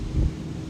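Wind gusting at a beach with floating cottages, a broad low rumble that swells briefly before easing into a steady breezy hiss, close on the microphone with no voices.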